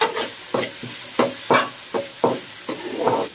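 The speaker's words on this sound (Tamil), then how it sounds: "வெங்காயம், பச்சை மிளகாய், கருவேப்பிலை போட்டு நல்லா வதக்கணும்." Onion, green chili and curry leaves sautéed in oil with mustard seeds for wheat upma, a spatula scraping and stirring in repeated strokes over a soft, steady sizzle, close and moderately loud, no talking.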